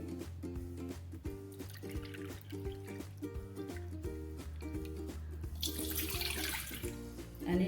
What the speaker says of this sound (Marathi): मी आता यानेच हे दीड वाटी मी पाणी घेणार आहे